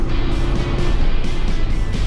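A 2020 Jeep Wrangler EcoDiesel engine gives a steady roar with low rumble, running hard and continuous throughout, like the vehicle under acceleration heard from inside.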